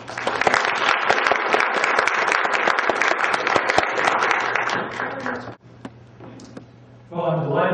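Audience applause welcoming a speaker at the Kroc Institute for Peace and Justice, a loud, dense burst of many hands clapping that holds for about five seconds, then thins to a few scattered claps before a voice begins talking.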